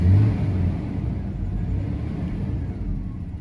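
A Jaguar XJ40 engine runs without its fuel pump, giving a low, steady rumbling idle up close that starts a little louder and then settles.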